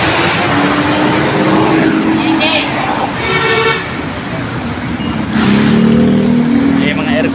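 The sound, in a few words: large air-conditioned bus driving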